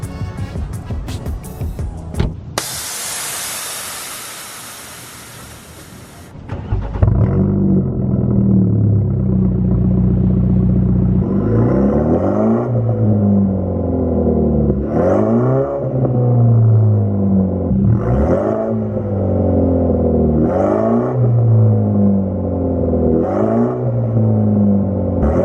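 A BMW F30 with a Bootmod3 stage 2 tune idles with a loud engine rumble, then is revved in six repeated swells that rise and fall at a steady pace. It sounds close and has no crackle between the revs.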